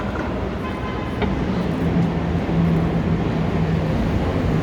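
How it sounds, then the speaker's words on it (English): Chicago elevated train on the tracks over Wabash Avenue in downtown, a steady loud rumble and rolling drone throughout, with street ambience around it. "So this is Wabash Avenue, where the train tracks are. The more trains coming, you can hear them."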